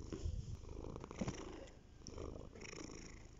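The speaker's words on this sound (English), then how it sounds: "I'm with my cat George, and he's so cute." A pet cat named as a male house cat purrs steadily and close, a soft continuous rumble with faint breathy pulses throughout.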